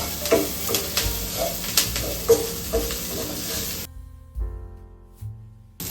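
Curry leaves frying in hot oil for curry leaves lemon rice tempering, a steady close sizzle with repeated stirring scrapes that drops abruptly to a faint hiss and a few soft knocks; no talking.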